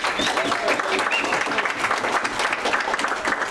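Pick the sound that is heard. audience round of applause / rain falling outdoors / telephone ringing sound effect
audience round of applause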